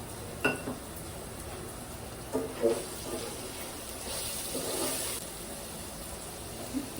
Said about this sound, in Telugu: వాటర్ పోసేస్తున్నానండి